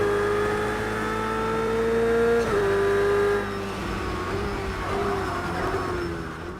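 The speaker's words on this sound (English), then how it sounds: "the immersive, nuanced sound of a car's engine in Project Cars 2" A race car engine in the racing video game Project Cars 2 drones with strong harmonic whine, holding a steady rev, climbing, then dropping sharply at a gear shift before rising again, loud and alone.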